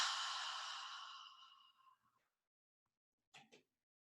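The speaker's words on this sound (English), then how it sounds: "as I exhale, you'll notice my mouth is open and I'm forcing it out with sound" A forceful, audible exhale through an open mouth during a meditation, a breathy rush that fades over about two seconds, followed by silence and two faint short sounds.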